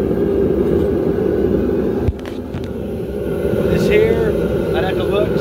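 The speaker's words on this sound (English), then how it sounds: "see how the flame changes." A homemade forge burner with an adjustable bolt choke, a loud steady roaring flame close by, its tone shifting midway as the choke is adjusted, with someone talking over it.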